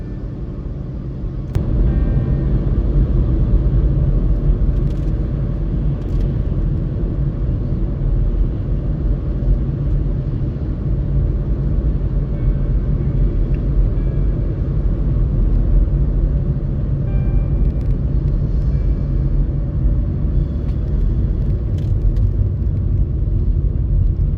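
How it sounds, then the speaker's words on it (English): Car driving through a border customs checkpoint, a steady loud low engine and road rumble heard from inside the cabin, constant throughout with faint clicks and no speech. "You have to drive through custom on your way back. So let's drive through."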